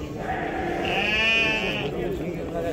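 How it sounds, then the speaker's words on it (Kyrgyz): At a livestock market, a ewe with lambs lets out one long, wavering bleat close by, set against a steady crowd murmur and the voices of people nearby. "Козулуу койлор."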